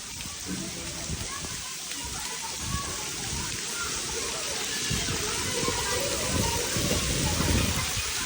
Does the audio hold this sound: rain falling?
yes